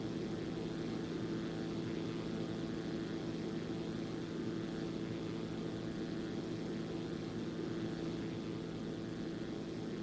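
A Zlin Z-142 propeller plane's engine drones on steadily and faintly in the X-Plane 11 flight simulator, flying over the Alps with the throttle not pushed in far enough.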